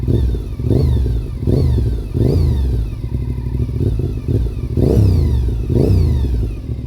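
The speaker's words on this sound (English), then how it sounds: "I'm going to just very gently give it some throttle so you can hear it. Listen to that gear-driven cam." A Honda RC51 motorcycle with gear-driven cams revs in short, close throttle blips, each rising and falling over a loud steady idle, with no talking.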